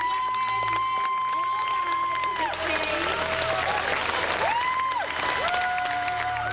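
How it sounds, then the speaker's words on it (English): A standing ovation from about 400 people on their feet, dense clapping and screaming filling the whole stretch at steady loudness, with music tones sounding over it. "Seeing the crowd stand up for this standing ovation, 400 people on their feet, clapping, screaming."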